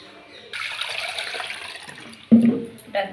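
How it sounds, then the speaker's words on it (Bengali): Water is poured in the kitchen to rinse out ground coconut paste for coconut milk paneer, making a steady, close splashing trickle that ends, followed by a couple of brief sloshing splashes. "এটা জল দিয়ে ধুয়ে সেই জলটা এর মধ্যে দিয়ে দিচ্ছি।"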